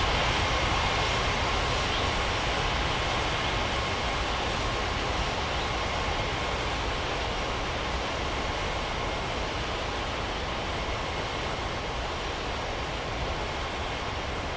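An AirAsia airliner takes off from runway 27 at Bali's Ngurah Rai airport in an air traffic control game, a steady loud broadband jet engine roar holding even throughout with no talk.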